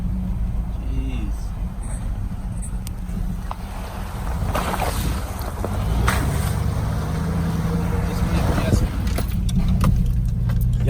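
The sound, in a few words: off-road truck squeaking over bumps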